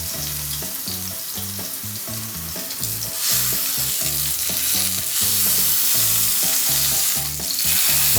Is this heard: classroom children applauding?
no